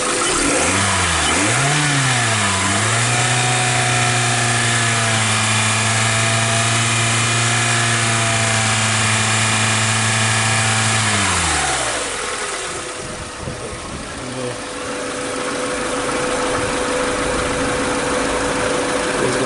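2006 Hyundai Tucson engine with a P0507 idle fault and power loss, revving up then holding a steady high drone before dropping back to a rougher idle, loud and close, no talking.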